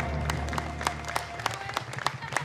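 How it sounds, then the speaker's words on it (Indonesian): A crowd claps and cheers with scattered sharp claps, a lively burst of applause for a child dancer at a televised talent show semifinal, mixed with background voices. "langsung kita kasih tepuk tangan untuk Sandrina"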